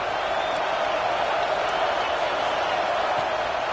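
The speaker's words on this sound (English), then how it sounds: "the home crowd going absolutely bananas" A home crowd roars without pause at a football game, a dense, loud, unbroken wash of cheering that holds steady throughout.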